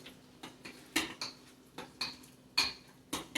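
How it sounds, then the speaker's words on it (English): A spoon clinks against a pot while stirring lobster ravioli in meat sauce, a series of about eight light, sharp taps and scrapes at an uneven rhythm, close and fairly quiet. "Let's stir this together."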